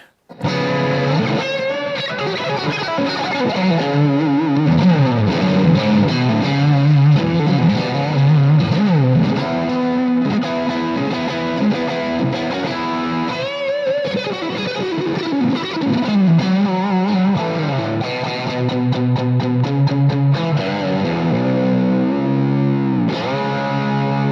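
Electric guitar, a beaten-up Stratocaster, played through distortion and chorus effects with heavy reverb, sustained strummed and bent notes ringing continuously and loud with no talking.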